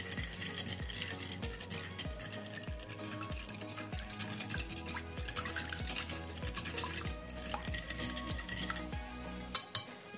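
A utensil stirs two eggs and half a glass of milk in a bowl with steady, rhythmic strokes that scrape and clink against the sides, ending with a couple of sharp taps.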